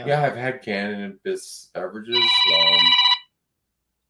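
A mobile phone rings during a radio show interview, a steady electronic ringtone sounding for about a second right after a man's speech ends, loud and close.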